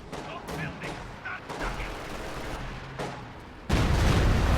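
A weapon fires in a strategy video game, heard as a few sharp reports amid ongoing battle noise and a closing heavy burst, with muffled game chatter underneath.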